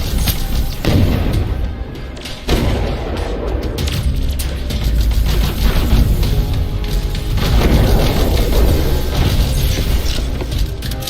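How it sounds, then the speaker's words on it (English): Explosions in the action RPG Everreach: Project Eden: loud, dense booms and crashes with crackling debris, several bursts rolling one after another in a continuous chaotic barrage, with no talk over them. "Could you blow the next one up a bit less violently, please?"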